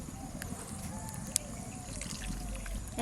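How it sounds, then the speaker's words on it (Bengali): Water trickles gently into ground spices, among them bay leaf and garam masala, prepared for a tuna curry. The flow is soft and close, with a faint clink partway through. "এর মধ্যে আমি জল দিয়ে দেবো"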